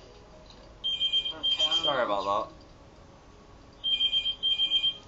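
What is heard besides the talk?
mobile phone alarm going off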